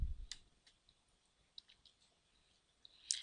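Computer mouse clicking while working in scheduling software, a few faint, sharp isolated clicks spread over about three seconds in a quiet room.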